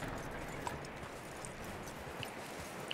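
Horse hooves clip-clopping in Red Dead Redemption 2 on PC, a quiet, steady walking gait in the game's outdoor world with a faint low background bed and no talk.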